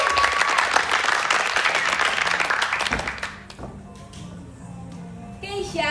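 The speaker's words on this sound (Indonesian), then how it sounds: "Tepuk tangan boleh untuk kelima." Loud audience applause greets a pageant guest, Putri Remaja Sumatera Barat 2023, on a talk show stage, a dense burst of clapping for about three seconds that thins and fades, with crowd noise and brief voices underneath.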